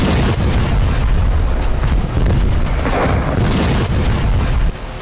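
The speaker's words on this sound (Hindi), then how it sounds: "जंग में खौफनाक बंकर बस्टर बम से अटैक शुरू हो चुका है।" Bunker buster bomb attack on an Iranian nuclear facility near Tehran, heard as a loud, continuous roaring blast rumble with dense low booming throughout.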